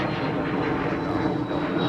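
Airplane roaring down runway 30 left at MSP airport in Minneapolis at night, a loud, steady, broadband engine roar that holds throughout.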